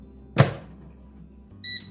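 Air fryer switched on: one sharp button click or thump, followed about a second later by a short electronic beep, close and alone in a quiet kitchen.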